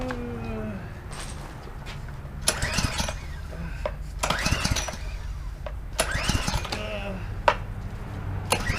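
A Ryobi 2700 PSI pressure washer engine is pulled over with the choke on, giving repeated bursts of cranking and sputtering roughly every second and a half over a steady low rumble, close by.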